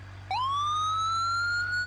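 An upgraded police car siren in the BeamNG Drive driving game kicks in abruptly and sweeps upward into a strong, sustained wail with rich harmonics, loud and alone over a low steady hum.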